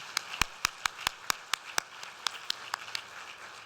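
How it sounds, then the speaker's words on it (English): A sparse crowd at a school district teacher of the year ceremony claps, a few loud, evenly spaced individual hand claps standing out over faint background clapping. "Let's give all of our amazing public servants a round of applause."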